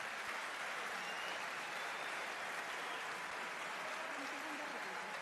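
A debate audience at a salmon industry summit in Frutillar breaks into sustained applause, a thick, even wash of clapping from a large crowd that holds steady throughout.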